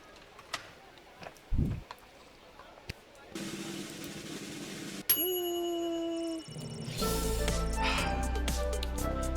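A bell chimes from afar in the video game Lil Guardsman, one of several tonal game sounds: a low thump, a buzzy tone, a sliding ringing note, then a brighter layered chime with a low rumble, no speech.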